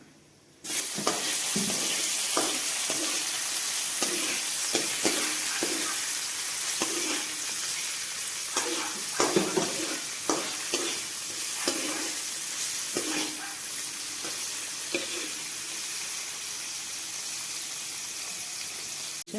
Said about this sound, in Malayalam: എണ്ണ ചൂടായി വരുമ്പോൾ കടുക് പൊട്ടിക്കാം. ഇതിൽ കറിവേപ്പിലയുടെ ആവശ്യമില്ല കേട്ടോ. തക്കാളി കൂടെ ഇട്ട് കൊടുക്കാം.